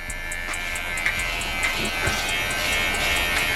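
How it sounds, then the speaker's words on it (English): A new rechargeable cordless professional hair trimmer runs with a steady, close electric buzz that holds at an even level throughout. "break out the new trimmer shortly"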